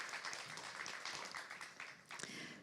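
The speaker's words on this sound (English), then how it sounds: "Yes, let's have a round of applause." An audience at a festival symposium applauds, with a soft, continuous patter of many hands clapping that sounds quiet and somewhat distant.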